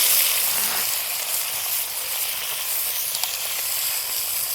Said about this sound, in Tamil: எண்ணெய் சூடாகிடுச்சு, வெங்காயத்தை போட்டுக்கலாம்.